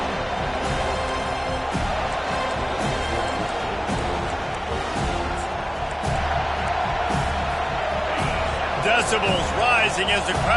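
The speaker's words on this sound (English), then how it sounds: "Decibels rising as the crowd gets behind this defense on 3rd down." A football stadium crowd roars and cheers on third down during a game against USC, a dense, loud, sustained wall of voices that swells toward the end, with commentary talk running over it.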